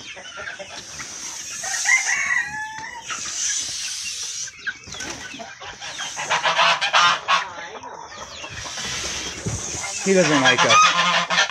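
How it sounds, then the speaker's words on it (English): A mother goose honks repeatedly in an outdoor animal rescue setting, mixed with chicken clucks and rooster crowing nearby. A person speaks briefly over the birds. "And we got a mama goose in here that we're going to give some to."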